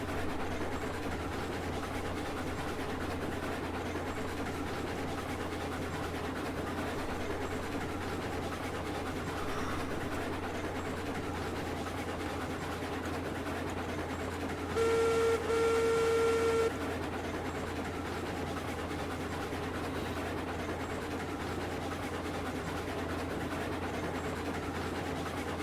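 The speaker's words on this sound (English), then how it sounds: "I'm driving the train." A steam-era train driven in Railroads Online gives a steady, continuous low rumble and mechanical hum for the whole stretch, with a brief louder whistle-like tone near the middle.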